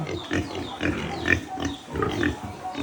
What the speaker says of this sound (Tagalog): Yung meron tayo mga baboy.